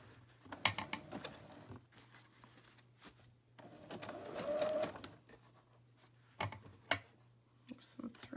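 A sewing machine stitching sari silk patchwork pockets for a boho journal, running in short bursts with a longer whirring run in the middle, plus scattered clicks and handling noise at a fairly quiet level.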